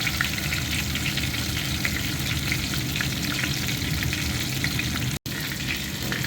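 Chicken schnitzel fries in hot oil with a dense, continuous crackling sizzle, loud and close, broken only by one brief dropout near the end.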